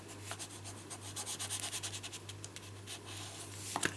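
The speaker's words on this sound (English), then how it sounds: "give that burnish" A paper card is burnished with rhythmic, close scratching and rubbing strokes that come in quick repeated bursts. They are faint and heard alone, with no talk.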